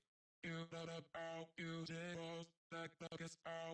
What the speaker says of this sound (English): A slap delay.